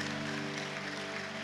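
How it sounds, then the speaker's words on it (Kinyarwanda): A church congregation applauds in a steady, even wash of clapping that holds for the whole moment, with sustained keyboard tones underneath. "Abanezeranywe natwe nibayikomera amashyi bayishimye."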